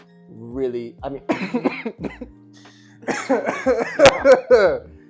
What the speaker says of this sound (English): No, that was coughing.